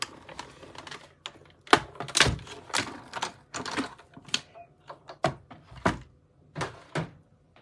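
Sticky Post-it note paper fed through a Stampin' Cut and Emboss machine, giving a series of sharp clacks and thunks at an irregular pace, crisp and close with quiet gaps between.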